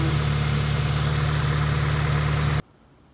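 A 1984-1987 Honda Civic CVCC engine idles smoothly with a steady, even hum that stays constant, then cuts off abruptly near the end, leaving near silence.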